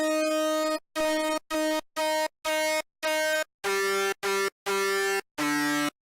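The Synth1 software synthesizer, with FM switched on, plays a bass patch as ten short, loud, buzzy notes with brief gaps between them, the pitch stepping between notes, with no voice over them.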